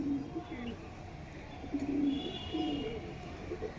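Pigeons in a loft coo in soft, low rolling calls that repeat close by at a faint level, with a few light chirps mixed in.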